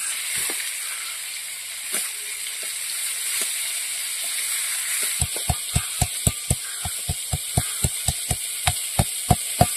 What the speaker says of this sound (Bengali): পটলটা ভাজা হতে হতে আমি আদা রসুন একসঙ্গে বেটে নেব।